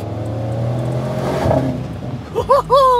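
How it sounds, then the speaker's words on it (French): Audi RS6 V8 engine rising in a smooth, progressive acceleration, a loud close rumble building in pitch before a couple of sharp rev blips near the end; someone talks over it. "C'est juste pour profiter du son du V8."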